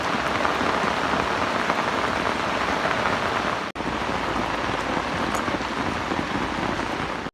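Heavy rain pours down steadily in a dense, loud hiss with a brief break near the middle, heard during home cooking of a soft egg and flour dough snack.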